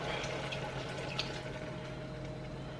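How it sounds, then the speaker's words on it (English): Water poured into a pan over browned mince and a spice mix, a steady rushing splash that holds at an even level from start to finish. "and then pop the water in on top."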